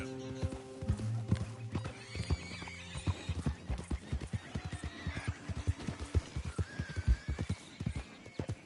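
A horse in the Red Dead Redemption 2 game, rhythmic hooves clopping close by with a whinny, fairly quiet in the mix.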